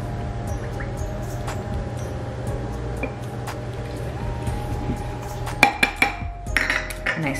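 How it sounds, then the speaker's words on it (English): A spoon stirs a thick mixture of flax seed and flax milk in a bowl, soft wet squishing under a steady background hum, ending in several sharp clinks of metal against the dish. "And I stir it around."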